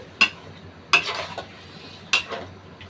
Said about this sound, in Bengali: আমরা খাসিটা তেলের মধ্যে মোটামুটি ভালো করে একটু কষিয়ে নিচ্ছি